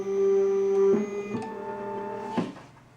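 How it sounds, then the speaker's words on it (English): Akiles FlexiCloser automatic wire closing machine runs with a steady mechanical hum and tonal whine, then clunks through a few distinct bind strokes before winding down, loud and close. "Again, perfect bind and a little faster, so it's a really great machine."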